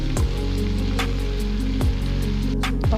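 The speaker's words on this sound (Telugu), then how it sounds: "ఈ స్పైసీలన్నీ కూడా ఒక నిమిషం పాటు వేగించండి" Onion paste with chili powder, coriander powder and garam masala fries in oil for a prawn fry, a steady close sizzle with soft bubbling, broken by occasional light scraping clicks of a spoon.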